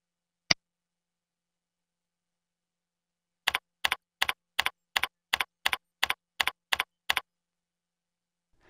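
Computer keyboard keys tapped to enter a new root password during server setup: a single early click, then a steady run of about ten crisp, evenly spaced keystrokes, close and clear in an otherwise silent room.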